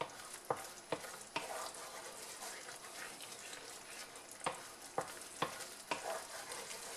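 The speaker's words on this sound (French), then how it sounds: "Sans cesser de remuer, hein. Pas que ça accroche au fond." A spoon stirs a French-style carbonara sauce in a hot pan, knocking against the pan in sharp, evenly spaced clicks over a constant close sizzle and hiss.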